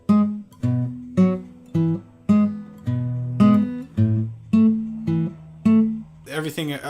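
Acoustic guitar playing a Piedmont picking alternating bass line, a steady pulse of low plucked notes with ringing upper strings, close and clear, ending in a brief strum or scrape.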